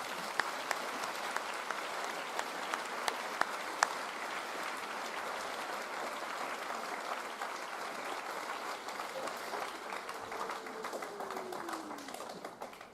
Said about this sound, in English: Please join me in giving the parents, grandparents, special friends, teachers, and administrators a round of applause for their hard work and dedication.